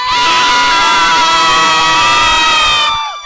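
A loud crowd at a local cricket match cheers and shouts continuously, a dense sustained roar of voices that cuts off abruptly at the end.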